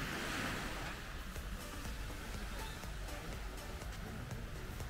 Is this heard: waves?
yes